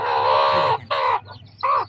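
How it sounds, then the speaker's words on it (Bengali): Desi poultry chickens, a mother hen among chicks, call loudly and close in three or four harsh clucking bursts separated by short pauses, with no voices over them. "এখানে কিন্তু মা মুরগির সহ ছানা আছে"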